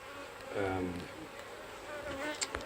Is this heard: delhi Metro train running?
no